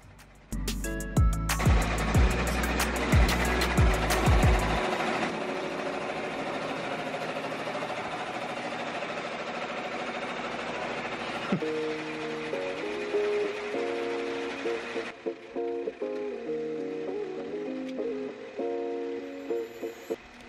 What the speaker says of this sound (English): and here's some stitching work going.